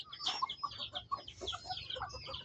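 Chickens in a rural village community in southern Laos cluck in a quick string of short, scattered calls, fairly faint and overlapping, with no talk.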